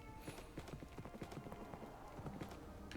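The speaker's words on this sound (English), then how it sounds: "Oh, look, a horse. We can use this to get back a little quicker." Horse hooves clip-clop at a steady walking rhythm in a Dungeons & Dragons video game, a run of soft, evenly spaced knocks at moderate distance with no talk over them.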